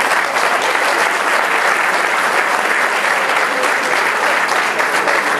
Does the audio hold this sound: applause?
yes